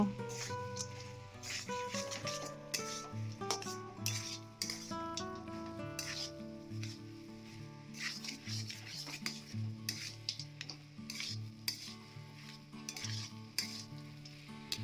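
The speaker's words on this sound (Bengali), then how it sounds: "এবার সব কিছু ভালো করে মিশিয়ে নেব" A spoon stirs and scrapes a sizzling vegetable chop filling of grated boiled potato and fried peanuts in a pan, close and continuous, with rhythmic rubbing strokes over the steady frying sizzle.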